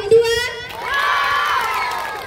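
A school audience at an Indonesian madrasah student council candidate debate erupts in loud cheering and shouting, with children's whoops rising after a brief voice, sustained and close for about two seconds.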